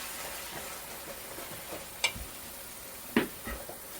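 Ground turkey frying in a pan with butter and olive oil gives a quiet, steady sizzle, broken by a couple of sharp clicks or taps.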